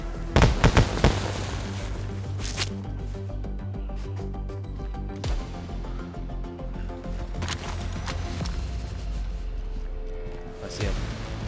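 Fireworks explode in the video game DayZ, with a dense, continuous run of loud cracks and booms and sharp bursts at the start and near the end, sustained throughout.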